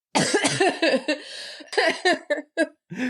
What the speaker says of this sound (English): Don't even edit out my coughs.